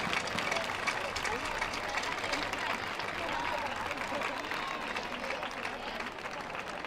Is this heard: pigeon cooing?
no